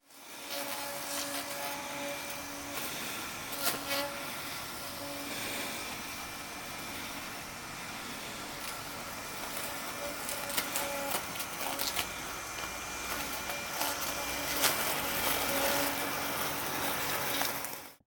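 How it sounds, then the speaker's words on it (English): A Mammotion LUBA Mini AWD robotic lawnmower runs quietly, giving a faint, steady whirring hum with scattered light clicks and ticks for about eighteen seconds. "The mower is whisper quiet and creates below 60 decibels of noise."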